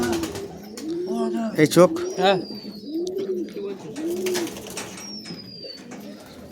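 Giribaz pigeons at a home loft give repeated soft, rolling coos close by, with someone talking over them.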